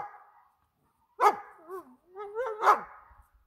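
German Shepherd barking on a guard command during obedience training. Two sharp, close barks about a second and a half apart are mixed with whiny, yelping vocal tails, and quiet gaps surround them.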